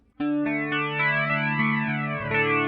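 Electric guitar chords ringing through a flanger effect, with a sweeping, whooshing rise and fall in tone as the notes sustain, played alone.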